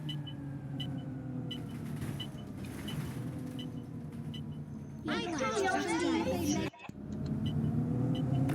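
A bus engine in the OMSI 2 bus simulator game rumbles steadily at a low level, with a brief burst of higher mechanical noise and a short dropout near the end.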